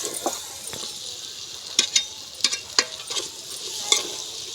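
Mango and drumstick curry gets stirred in a sizzling pan, a steady fry hiss broken by several scraping, clinking strokes of the spoon against the metal.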